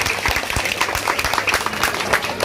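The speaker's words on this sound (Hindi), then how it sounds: "मैं आप सब लोगों से इनके इस काम के लिए जोरदार तालियां बजाने की अपील करता हूँ" A crowd at a political party's umbrella distribution gathering in India breaks into applause, a short burst of busy, overlapping clapping at steady loudness.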